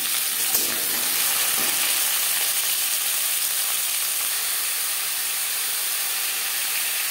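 Pumpkin goes into hot oil tempered with panch phoron and dry red chilli, a loud sudden sizzle at the start that settles into a steady hissing fry, with faint stirring scrapes early on.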